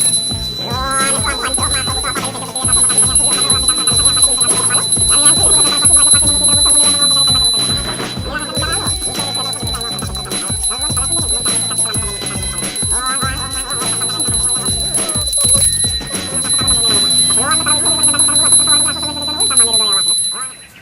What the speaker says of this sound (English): Then the holy man chants and rings bells for,